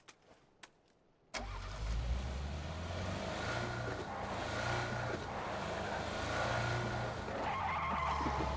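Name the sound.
car skidding in PUBG video game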